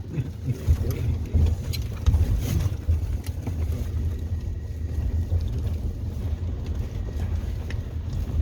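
A BAIC B40 Plus bounces over rough terrain, heard as a low, continuous rumble with bumps and jolts and some wind noise from inside the moving vehicle, with no speech.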